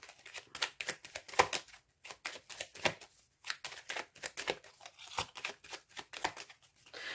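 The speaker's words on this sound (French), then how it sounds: "Je vais recouvrir certaines cartes parce que j'ai besoin de plus d'informations." Tarot cards are dealt and laid out on a table in quick irregular bursts of crisp slapping and sliding, close and moderately quiet, with short pauses between flurries and no speech.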